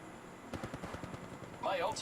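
Gunfire in Apex Legends Mobile played on a realme GT Neo 3T, a quick run of rapid shots at moderate volume, mixed with in-game voice lines and other game effects.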